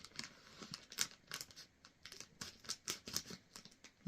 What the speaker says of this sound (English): get the old trusty pink scissors